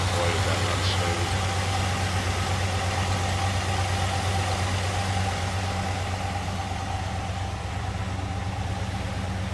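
A 1968 Chevrolet Chevelle two-door hardtop idles smoothly and steadily, with a constant low engine hum that holds for the whole stretch at an even, close-up level.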